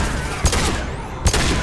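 Two sharp pistol shots ring out during a Renegade interrupt in the Mass Effect 2 video game, loud and close, spaced under a second apart over a constant background rumble.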